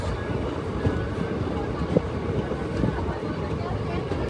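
Inside a moving passenger train, a steady low rumble and rattle continues throughout, with occasional clunks beneath it.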